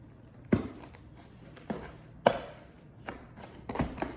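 Hands working an additive into potting soil for a Calathea houseplant: a few irregular, soft crunchy scrapes and pats, close and fairly quiet, with gaps between them.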